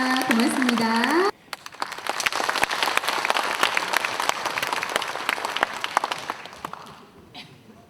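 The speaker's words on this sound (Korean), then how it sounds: "여러분 따뜻한 박수 한번 부탁드리겠습니다" At a Cheonan commemoration of the 73rd anniversary of the Korean War, an audience gives warm, sustained applause after a speaker finishes, the clapping swelling and then gradually fading out.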